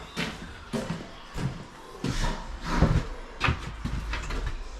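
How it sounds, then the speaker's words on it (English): A heavy solid door swings on three hinges and knocks, with several thuds, creaks and scrapes spaced irregularly, close by. "Doors being swung on, Scott."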